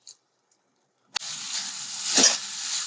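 Chana masala sizzling in a pan on a medium flame, a steady close hiss that starts abruptly after a brief quiet moment and swells once as the masala is stirred.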